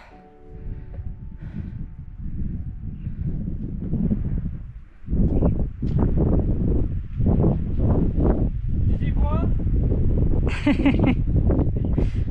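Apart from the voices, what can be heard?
wind blowing on a mountain pass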